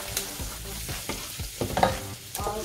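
Garlic frying in oil in a pan while cooking chicken adobo, with close stirring scrapes and soft sizzling in irregular bursts, no talking.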